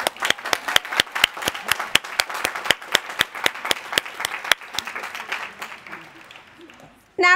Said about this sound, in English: Everybody else, applaud those people.